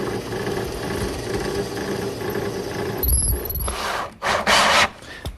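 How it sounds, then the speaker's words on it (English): A drill bores a hole partway through wood for a carriage bolt while building a chop saw station: a steady workshop hum, then a brief high squeal and a few short, rough bursts of cutting close by. "And then up above I want to drill a hole for the carriage bolt to go in."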